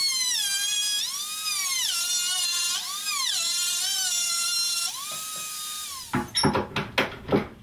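Router cutting around the outside of a wooden jig piece, a loud high whine sweeping up and down in pitch for about six seconds, then cutting off into a few knocking clatters.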